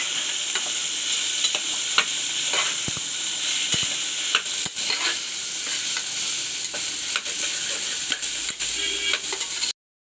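Beetroot sautéing steadily in a pan for rice pulao, a dense continuous sizzle with scattered stirring scrapes and clicks throughout, close and fairly loud, no voices.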